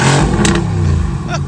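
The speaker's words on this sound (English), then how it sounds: "Oh yeah, it's spooling. You can hear the turbos." A Mercedes-AMG GT R Pro engine revs hard nearby, with a loud rising growl and a thin turbo whistle under it.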